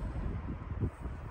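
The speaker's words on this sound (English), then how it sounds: "Well, it's super windy per usual." Gusty wind buffets the microphone outdoors while hiking across an open Wyoming valley, a continuous low rumble with surging gusts, steady and fairly loud, with no talking.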